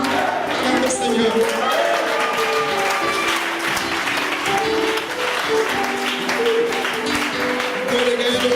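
A church congregation at a revival service in Yamoussoukro cheers and claps loudly, dense sustained applause and crowd noise with voices mixed throughout.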